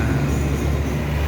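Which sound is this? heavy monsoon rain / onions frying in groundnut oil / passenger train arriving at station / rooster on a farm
passenger train arriving at station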